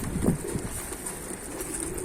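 Tumbler pigeons coo softly at a coop, a low, faint throaty call rising briefly near the start over a quiet hiss of background noise.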